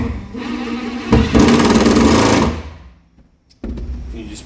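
A power drill drives screws through a gel-coat shower pan into wooden framing studs, giving two bursts of whirring motor noise with a short pause between them.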